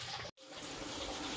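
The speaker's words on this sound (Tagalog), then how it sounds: "Ayan, kumukulo na." A pot of water with garlic and ginger at a rolling boil, giving a steady, close hiss and rush of bubbling broken by one brief silent gap.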